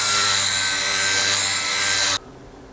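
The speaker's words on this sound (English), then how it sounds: "I'm going to use my sanding disc to take a lot of this off the top" A cup burr sanding disc grinds down the top of an angel wing earring with a loud, steady high-pitched whine for about two seconds, then cuts off abruptly, very close.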